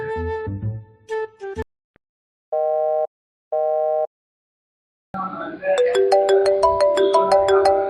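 Two long, even electronic ringback tones sound an outgoing call ringing, preceded by short beeps and followed by a melodic ringtone tune.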